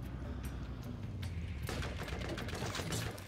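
Gunfire in the video game Borderlands, a faint fusillade of rapid shots with some booms, continuous over muffled game ambience.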